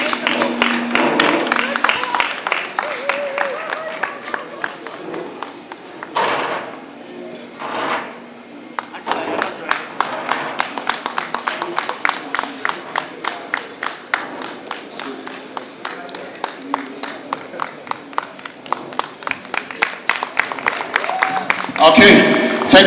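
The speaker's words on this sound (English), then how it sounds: "Let's give them a round of applause." An audience at the Asantehene 66th Golf Tournament applauds the sponsors, producing dense, sustained clapping that runs nearly the whole time, briefly dipping midway, with voices talking over it.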